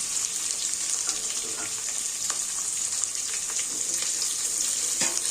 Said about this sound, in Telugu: వేసి బాగా ఏగనిద్దామండి ఉల్లిపాయ ముక్కలు ఎర్రగా వేగాల